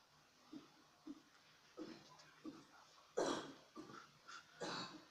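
A person coughs repeatedly in short, separate bursts during a quiet stretch of gameplay, each cough fairly close and moderately loud, with the louder, rougher coughs clustered near the end.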